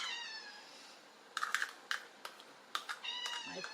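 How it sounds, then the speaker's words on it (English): A house cat meows repeatedly in a kitchen, several short close-up meows spread across a few seconds over quiet room tone, with soft clicks and light clatter between them. "My cat keeps meowing because he wants to sleep on me."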